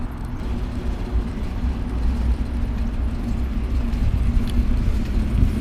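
Bus at a mall bus station, its engine a low continuous rumble mixed with steady traffic noise, moderately distant and unbroken.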